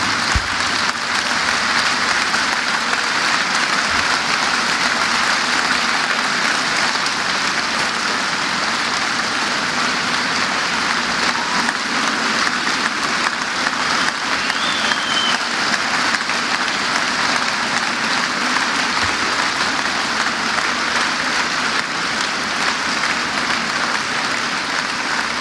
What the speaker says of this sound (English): Another warm round of applause for Professor Piketty, ladies and gentlemen.